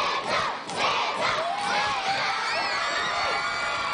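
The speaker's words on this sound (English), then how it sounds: "they didn't hold back cheering for Santa" Kindergarten through eighth-grade children cheer and shout loudly for Santa, a dense, excited crowd of young voices whooping and yelling continuously, close and unbroken.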